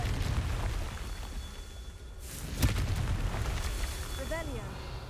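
A Confringo fire spell bursts in Hogwarts Legacy: one sharp explosive blast midway through a rumbling battle ambience, with a voice briefly present.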